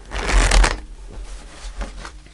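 A Rider-Waite tarot deck is riffle-shuffled close up, a dense papery flutter that then settles into a few lighter card taps, with no talking.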